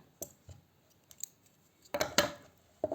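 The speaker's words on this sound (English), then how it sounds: "chain 1 to secure it, and cut the yarn" Scissors snip crochet yarn in a few sharp, quiet clicks, ending in a louder pair of cuts near the end, with no talk.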